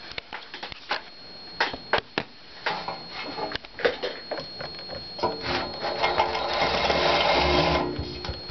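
An electric scooter motor runs on a newly fitted controller, whirring in short bursts at first, then spinning up into a steadier, louder whine that holds near the end.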